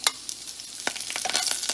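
Curry leaves sauteing in hot oil in a pan for a raw mango moong dal rasam, giving a steady close crackling sizzle with sharp pops and stirring scrapes, no voices.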